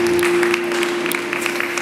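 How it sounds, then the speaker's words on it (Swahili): A church congregation claps during a worship service, a scattered, moderately loud patter of hands over a held keyboard note that drones steadily for the first half. "Pigie Yesu makofi leo baya."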